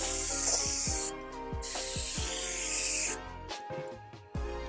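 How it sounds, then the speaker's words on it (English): Cooling water mist sprayed onto a face during a holiday glam makeup routine: several quick hissing pump sprays in a row, close and crisp, with ratcheting pump clicks between bursts. "so I'm just gonna spray my face with my cooling water mist."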